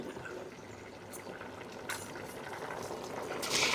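Andhra-style country chicken pulao boils in a pot, a faint soft bubbling and simmering hiss that grows slightly toward the end, close by and with no talk.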